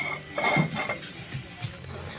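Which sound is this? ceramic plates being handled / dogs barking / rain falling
ceramic plates being handled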